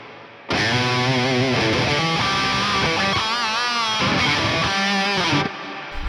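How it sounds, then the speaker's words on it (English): Electric guitar played through an amp simulator (MLC S_Zero 93°) with a huge stadium-sized reverb: sustained, distorted chords and notes ring continuously, then a long, washy tail decays away at the end. "you can use the decay to choose how long the reverb tail is"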